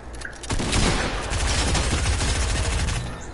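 Rapid sustained SMG fire in a first-person shooter game, a dense loud burst of shots running almost continuously for several seconds after a brief quiet start.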